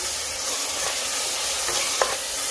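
Chicken stirred with aromatics in a hot pan for a vegetable and chicken soup gives a steady broadband sizzle, with a few light scraping stir strokes and one sharper clink near the end.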